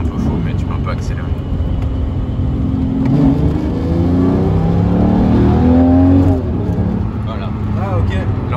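A naturally aspirated 6.2-litre V12 car engine accelerating in sport mode, loud and close, its tone climbing steadily as it revs up, then easing back.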